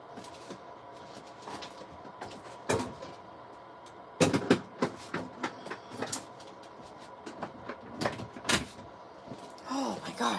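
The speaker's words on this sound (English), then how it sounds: "I'm going to shut the door because it is freezing out there." A door is pushed shut against freezing outdoor air with a sharp, loud thud midway. Scattered knocks and clicks surround it, and people talk throughout.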